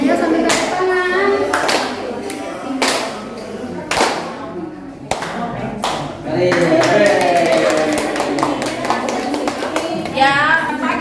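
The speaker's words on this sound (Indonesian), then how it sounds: "Ayo sambil tepuk tangan." Group of elderly people at a group-therapy session clapping their hands: sharp, spaced claps at first, then a quicker run of rhythmic claps, mixed with a voice speaking over them.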